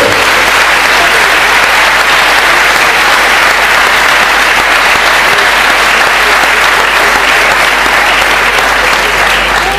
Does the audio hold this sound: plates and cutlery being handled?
no